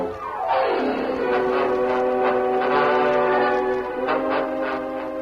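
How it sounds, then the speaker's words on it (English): A staged train sound effect in an old western radio drama: a steam train passes with a falling whistle tone and a rumble of moving cars, loud and steady for several seconds. "Greg took the company train for Warren City."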